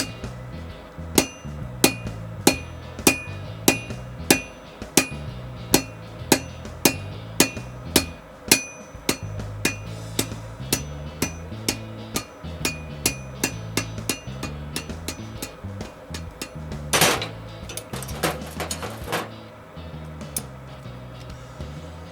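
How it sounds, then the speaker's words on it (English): A tilted hammer forges a drill rod steel bar into a hexagon: a steady series of sharp, ringing metallic blows about twice a second, loud and close, with a brief burst of clattering near the end. "I'm hitting the steel with a tilted hammer and turning it 60 degrees, and 60 degrees again, and then 30 degrees, until I have an even hexagon."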